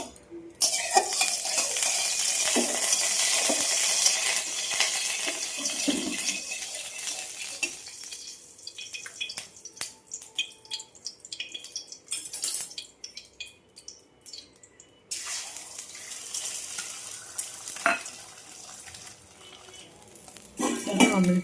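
An omelette frying in hot oil in a pan, with a steady loud sizzle plus intermittent scraping and clinks of a utensil against the pan, close up and without talk.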